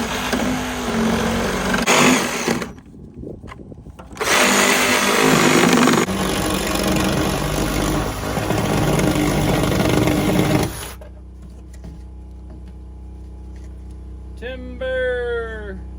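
A power saw with a demolition blade cutting shower shed wall material whines loudly in long bursts with brief stops, then drops to a quieter hum with faint sounds at the end.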